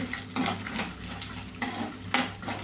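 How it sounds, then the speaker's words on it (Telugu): Chana dal, urad dal and dry red chilies fry in hot oil in a pan as a spoon stirs them, giving soft sizzling under repeated scraping strokes, with no speech. "పచ్చిపప్పు మినప్పప్పు ఎండు మిరపకాయ అండి వేసుకోవాలండి ఒకసారి ఇట్లా కలుపుకుందామండి"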